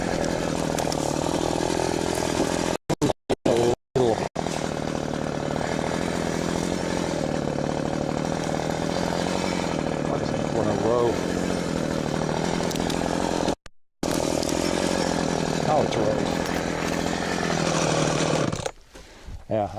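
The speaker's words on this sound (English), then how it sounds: "if all the branches are off, then we can shut off the chainsaw" A chainsaw runs loud and close while cutting birch branches for firewood, its engine droning steadily with brief cut-outs and pitch shifts as it bites, voices faintly audible beneath before it winds down at the end.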